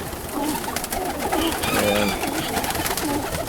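Roller pigeons coo steadily in a loft full of young birds, soft repeated throaty calls layered over a constant hum, with a brief spoken word near the start.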